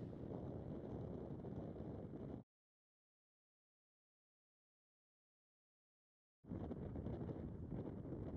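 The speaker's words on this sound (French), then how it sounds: "le vent semble assez fort, hein, et on entend le bruit." Wind buffets the microphone with a steady rumbling rush, cut off by several seconds of complete silence before returning.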